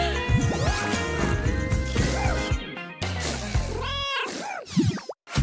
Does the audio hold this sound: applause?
no